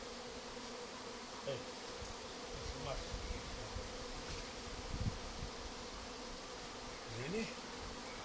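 Honey bees swarming in an apple tree as a thunderstorm approaches, giving a faint, steady outdoor hum with a few louder buzzes as single bees pass close.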